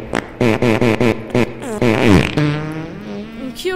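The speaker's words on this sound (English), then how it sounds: "It's just farting." A cartoonish fart in Toilet Simulator 2013: a loud, close run of short sputtering bursts that slides into a longer, wavering blat and trails off.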